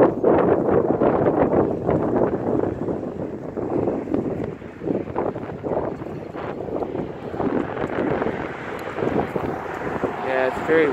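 Wind blows outdoors at a high, exposed spot on a sunny day, gusting hard against the microphone. The roaring, buffeting rush rises and falls unevenly from start to finish.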